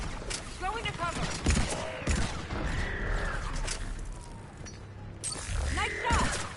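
Rapid gunfire in the video game Mass Effect during an Insanity-difficulty fight, dense loud volleys crackling steadily throughout, with voices shouting over the shooting.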